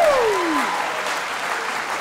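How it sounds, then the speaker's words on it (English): An audience at an Ara Taiohi youth sector event in New Zealand applauds with a steady, full round of clapping that holds at an even level for the whole stretch, with a faint sliding tone fading out near the start. "Let's give these wonderful organising people a round of applause."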